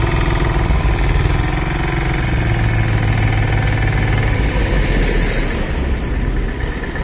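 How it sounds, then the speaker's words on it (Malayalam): An earth compactor pounds and levels ground at an NH66 road construction site, a loud, continuous, rumbling engine drone with a rapid thumping texture throughout, close and unbroken. "മൊത്തം എർത്ത് കോമ്പാക്ടർ വെച്ചിട്ട് അടിച്ച് ലെവലായിക്കൊണ്ടിരിക്കുകയാണ്"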